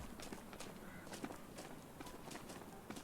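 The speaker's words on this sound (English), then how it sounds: "he's probably listening to those bots' footsteps" Bots' footsteps in the Ghosts of Tabor shooter, a faint, steady run of quick thudding steps heard at a distance, regular and continuous throughout.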